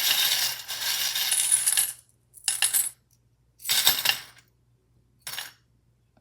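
Divination charms shaken and dropped onto a surface, a long rattling jangle followed by three shorter bursts of clinking with quiet gaps between, close and fairly loud with no talking.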